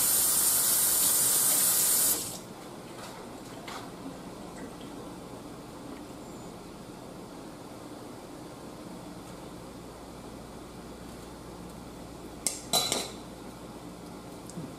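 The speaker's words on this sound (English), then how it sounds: "Let's rinse our spoon and taste it again." A spoon rinsed under running water at a pot of low-country boil: a loud rush of tap water for two seconds that shuts off abruptly, then a quiet room until a brief clatter of metal near the end.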